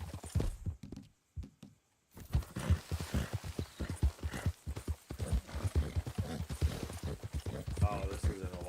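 Hooves clip-clop steadily as a horse walks near a campsite in Cyberpunk 2077, close and rhythmic beneath someone talking for most of the stretch.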